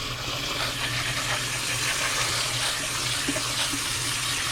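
Canned black beans rinsed under a running kitchen tap, a steady close rush of water splashing into a sink with no break.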